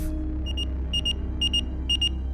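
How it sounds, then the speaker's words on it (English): A beeper sounds its alert, a series of quick double electronic beeps repeating about four times at an even pace, clear and close over a faint low room hum. "Then Yuck's beeper went off."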